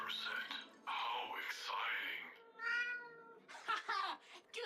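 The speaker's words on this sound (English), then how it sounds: "The cat just goes around messing up unicorns and meowing the whole time." A cartoon cat meows repeatedly in the video game Gori: Cuddly Carnage, drawn-out wailing and short mews close up, with voices talking in between.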